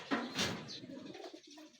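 Pigeons being road-trained outdoors give soft cooing calls over a short stretch, with a few chirpy notes, close and moderately loud with no talking.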